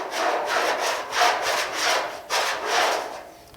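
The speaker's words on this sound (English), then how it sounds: "So we're going to take the straight edge and just rub it on here" A straight edge rubbed back and forth across the sheet-metal door of a GTO restomod, finding high spots: five or six rasping, scraping strokes in steady rhythm, close and fairly loud, with no talking.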